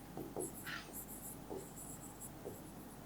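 A pen scratches across a board or paper during a Class XII applied maths lesson, several short, faint strokes and squeaks spaced out over a quiet room.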